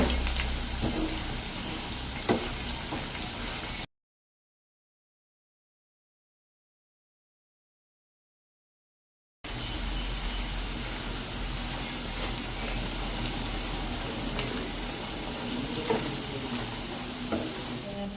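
Sliced plantain frying in hot oil in a home kitchen gives a steady, loud sizzle and crackle that runs continuously, broken by a stretch of total silence in the middle before the hiss resumes.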